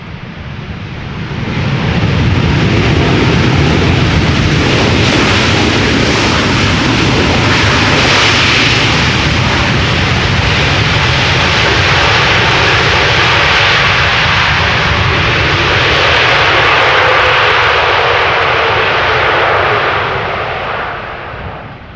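A landing airliner, nine years old, at Amsterdam Schiphol roars loudly with thrust reversers deployed, a sustained broadband jet rumble holding for about twenty seconds before easing off.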